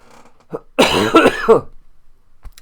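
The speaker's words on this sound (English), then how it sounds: "just what I need on top of everything else is a cough" A single harsh cough with some throat clearing, close and fairly loud, framed by brief quiet moments.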